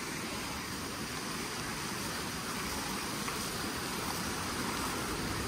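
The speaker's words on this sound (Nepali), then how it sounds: "अहिले यो सबै हाम्रो यो बाटोमा पानी अहिले आइराखेको छ" Rainwater after an hour of torrential rain floods down a road in Dharan, Nepal, a dense, steady roaring wash of running water filling the scene without pause.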